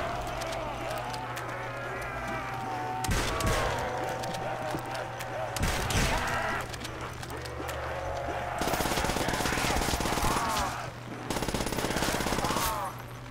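A PP submachine gun fires in Call of Duty: World at War zombies mode, in rapid automatic bursts with sharp impacts and game effects, loud and close, broken by short pauses between volleys.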